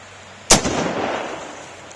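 A single loud gunshot from an Uberti Remington 1858 cartridge conversion revolver chambered in .45 Colt and loaded with black powder, a sharp close blast followed by a rolling boom that fades over about a second.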